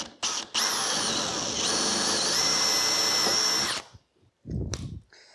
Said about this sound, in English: I'm gonna bore a hole with a small drill bit on the inside of the circle